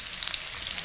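Garlic and onion sautéing in a hot pan while being stir-fried, a steady soft hiss of sizzling oil, quiet and continuous with a few faint crackles.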